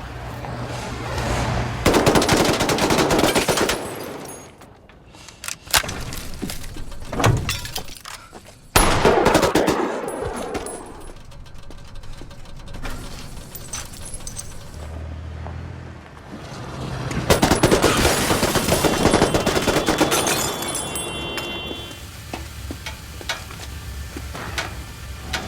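Submachine gun fire in a gunfight, long dense bursts of rapid automatic shots that come in loud waves with brief pauses between them, with no talking.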